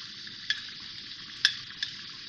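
Chicken karahi with whisked yogurt, green chillies and garlic-ginger paste frying in a pan while being stirred, giving a steady close sizzle with a few sharp scraping knocks of the spoon.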